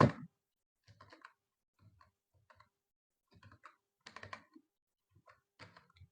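Typing on a computer keyboard while writing CSS code, with short clusters of crisp key clicks spaced by pauses, close and quiet with no talk.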